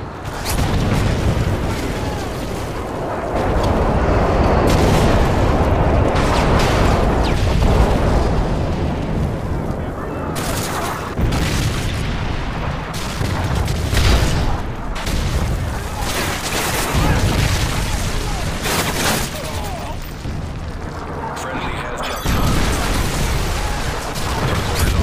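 Stealth airstrike bombs detonate in a Call of Duty: Modern Warfare 3 Headquarters match on the Hardhat map, giving a dense, continuous rumble of heavy explosions with repeated booming bursts for about 25 seconds.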